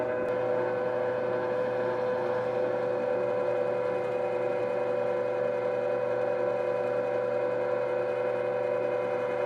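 An electric meat grinder grinds brisket for burgers with a steady, even motor whir and hum that runs unbroken, close and moderately loud with no talking.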